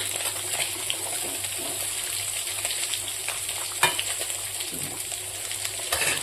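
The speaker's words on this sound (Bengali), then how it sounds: "এদিকে পাবদা মাছটা ভাজা হয়ে গেছে নামিয়ে নিয়েছি আর দুটো বাকি আছে ভেজে নেব" Pabda fish fries in hot oil in a pan, giving a steady, dense sizzle and crackle throughout, with a couple of faint clinks of utensils and no talking.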